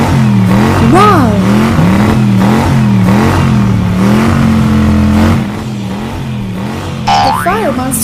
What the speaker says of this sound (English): The Fire Monster Truck is racing towards the finish for the win.